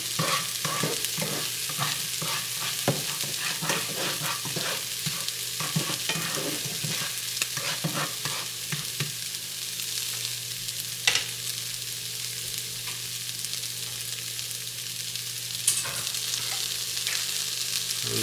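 Food sizzling hard in a hot pan while an omelet is made, a loud continuous close frying hiss with scattered crackles and occasional utensil clicks, no voices throughout.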